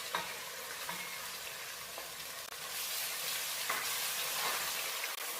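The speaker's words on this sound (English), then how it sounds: "And I'm going to add 2 more onions chopped up." Chopped onions fry in a pot with cumin seeds and other spices over medium heat, giving a steady, soft sizzle. Light stirring scrapes come and go over it.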